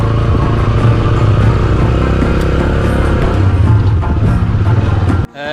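Motorcycle riding along a rough, broken road near Chajian village on the way to Chajian Waterfall in Haripur, its engine a steady loud drone with rattling and clatter throughout, cutting off briefly near the end.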